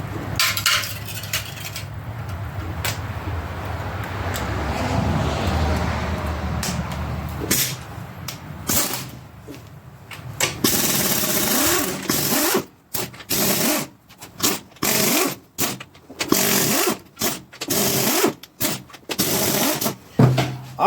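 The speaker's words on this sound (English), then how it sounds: "Now, I'm gonna get these bottom bolts here, Sonny." Wrench removing the bottom bolts from a small block Chevy 350 engine, heard as a long run of scraping and rubbing followed by a series of short, close, sharp ratcheting bursts with brief pauses between them.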